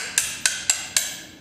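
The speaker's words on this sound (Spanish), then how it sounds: "La retenida del cargador la vamos a sacar con el martillo y el botador" A hammer strikes a punch four times in an even rhythm to tap out the magazine catch pin of an HK USP Compact pistol, giving sharp, close metallic knocks that ring briefly after each blow.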